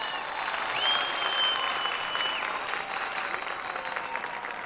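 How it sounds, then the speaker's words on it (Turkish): Steady applause from a studio audience on a Turkish karaoke game show, cheering on a contestant named Sevtu; dense, even clapping fills the whole stretch at moderate loudness with no voices over it. "O halde bir moral alkışı verelim Sevtu'ya."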